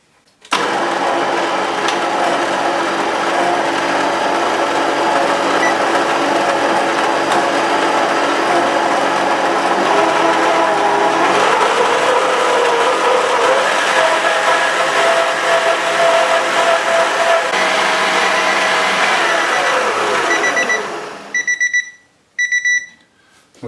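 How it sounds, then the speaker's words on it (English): An electric mixer beating cupcake batter at medium speed, a loud steady whirring hum that runs for about twenty seconds, then stops, followed by a few short electronic beeps. "then place the mixer onto a medium speed setting, and we're going to time this for 2 minutes exactly."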